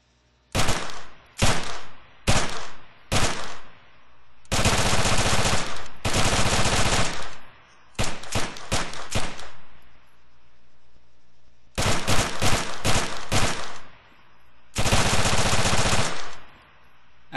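Unsuppressed Scorpion submachine gun in Arma 3 firing loud, sharp automatic bursts, some short and clipped, others sustained for about a second, separated by brief silences.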